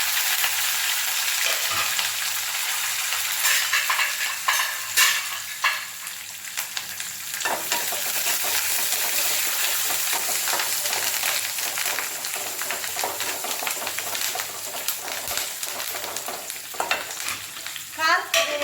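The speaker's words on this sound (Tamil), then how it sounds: "கடுகு, சீரகம், கடலைப்பருப்பு எல்லாம் பொரிஞ்சிருச்சு. இப்போ வந்து வெங்காயம்" Onion and curry leaves fry in oil with spluttered mustard seeds, cumin and chana dal, giving a steady loud sizzle broken by repeated crackling pops and stirring scrapes.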